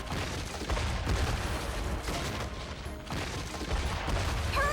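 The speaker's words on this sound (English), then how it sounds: "now we dodge boxes with explosions in the background" Explosions and collapsing rock boom through a cave-in in the video game Metaphor ReFantazio, a loud continuous rumble with repeated blasts and brief lulls, no voices.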